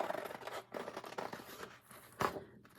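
Scissors cut paper along a line for a wooden turkey craft, a run of close crunchy snips and rustles with one sharper cut near the end, and no voices.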